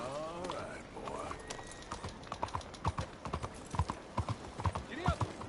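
Horse hooves clip-clopping in Red Dead Redemption 2, a steady rhythmic series of hoof beats that grows more distinct toward the end, with a brief whinny and a voice over the top.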